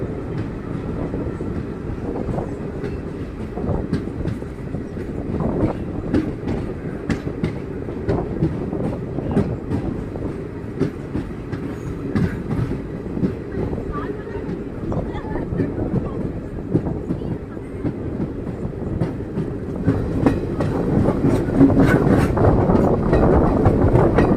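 A Rameswaram passenger train runs along the rails toward Uchipuli station near Ramanathapuram in a steady low rumble, with rhythmic clicks and clacks from the tracks that grow slightly louder near the end.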